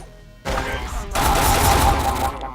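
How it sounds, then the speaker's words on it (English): Shotgun blasts from the video game The Pit, two loud bursts close up, the first short and the second longer and sustained with dense rumbling noise, no talk over them. "I'm just gonna use a shotgun here"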